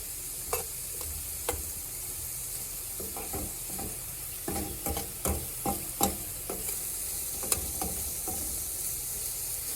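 Soft, already-boiled potatoes frying in a little oil in a pan, a steady sizzle broken by scattered scrapes and stirring knocks, fairly close, with no voices.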